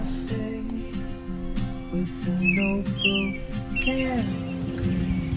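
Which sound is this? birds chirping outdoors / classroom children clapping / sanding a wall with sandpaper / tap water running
birds chirping outdoors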